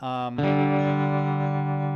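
An electric guitar plays through a hand-wired Fender Princeton-style amp with tremolo engaged; a sustained chord rings out, then a second fuller chord is struck and held, its steady tone rippling slightly.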